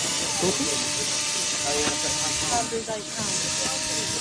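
A steam locomotive vents steam as its boiler pressure builds, making a loud, continuous broadband hiss that holds steady throughout. Faint voices can be heard in the background.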